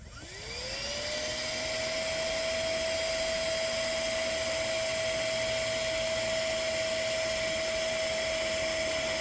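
A Flextail Max Pump 3 air pump runs in reverse to deflate a sleeping pad, spinning up quickly into a loud, steady, high whine that continues unbroken and close.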